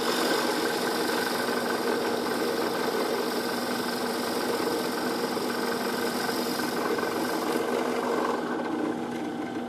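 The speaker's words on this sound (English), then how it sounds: "Just give a little tap and I'll drill again" A drill boring into a wooden fidget spinner blank runs steadily and close for the whole stretch, a continuous whirring drone with no pauses and no talk.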